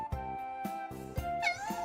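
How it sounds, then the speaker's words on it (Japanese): Cat meowing repeatedly in a cat cafe, several close, clear meows in quick succession with no talking. "私はこの猫が好きです。"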